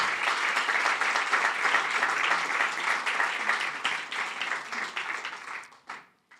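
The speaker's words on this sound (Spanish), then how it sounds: "Dale un aplauso a Dios." A church congregation applauds during a pastor's sermon. The clapping is steady and dense, fills the room and carries on for several seconds before quickly dying away to near silence.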